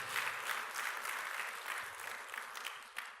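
Warm, sustained applause from a church congregation during a Korean sermon, a full, even wash of clapping heard at a moderate distance, with no talk.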